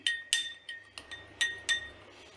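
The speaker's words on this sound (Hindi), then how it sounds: "मिक्स कर लेंगे हम" A spoon stirs a pineapple-crush mocktail with lemon juice and sugar syrup in a glass, giving about six separate bright clinks at uneven intervals, close and clear with no talking.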